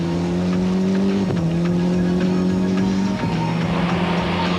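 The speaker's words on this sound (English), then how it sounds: "Marvellous shot of the action in the rally car." A rally car in the 1996 City of Mount Gambier Rally drives at speed, its engine droning steadily and loudly with two brief shifts in pitch, heard from inside the car with no talk.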